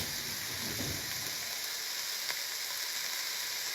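Sausages and onions sizzle steadily in a pan with little oil, a dense, even crackle held at close range from start to finish, with no voices.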